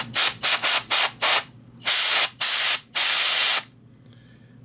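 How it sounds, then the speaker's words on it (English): Compressed air sprays into a MiniDisc player that has a dusty, clouded lens. Eight loud, close hissing bursts come first as four quick short puffs and then as longer blasts, followed by quiet. "I'm also going to give it a shot of compressed air."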